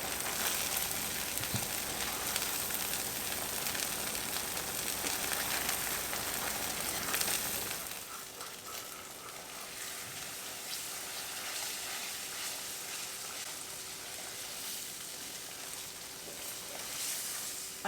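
Shallot and garlic fry in a pan with a steady, fairly quiet sizzle that runs continuously, dropping to a softer hiss partway through as the heat or stirring changes.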